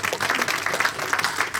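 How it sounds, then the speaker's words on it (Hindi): Steady crowd applause with dense clapping throughout, fairly loud and continuous for a short burst. "जोरदार तालियां रत्ना वेंकट के लिए।"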